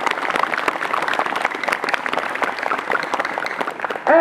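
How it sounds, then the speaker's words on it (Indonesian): Children applauding at a school morning assembly held for Youth Pledge Day, a dense steady clatter of many small hands that stays loud throughout, with a brief louder burst at the very end. "Kita kasih aplaus lagi yang meriah anak-anakku"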